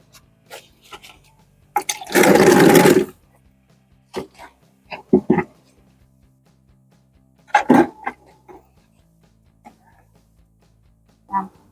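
Water flushing out of the spray nozzle of an MG1026 skim coat sprayer, a loud, close gush lasting about a second, surrounded by scattered knocks and clicks and a second shorter burst later.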